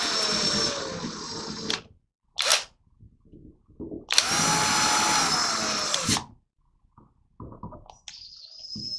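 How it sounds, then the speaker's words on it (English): A power drill drives screws into a valve block in two long, loud whirring runs with short bursts between them, up close, ending in a higher-pitched spin. "Now you're going to tighten your screws."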